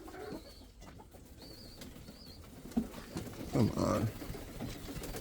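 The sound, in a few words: breeding pigeons cooing and flapping in loft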